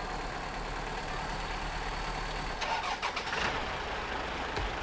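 In the SnowRunner video game, a truck engine is heard over a low steady hum, then briefly cranks and fires into a rough start, followed by a lingering rumble, with no voices.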